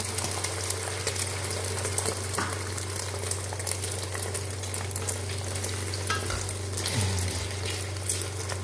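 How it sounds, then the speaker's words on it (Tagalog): Eggs fry in hot cooking oil in a pan with a constant, crackling sizzle that stays loud and steady throughout, with a brief low clunk near the end. "painitin natin yung mantika at ibuhos natin ang itlog"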